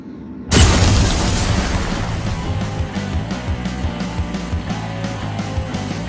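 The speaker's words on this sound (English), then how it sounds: "there is no way that is the best glass breaking effect you had" A deliberately cheap-sounding glass-breaking effect from a low-budget movie hits suddenly as a loud burst, then a dense crashing wash trails off over several seconds with low rumbling underneath.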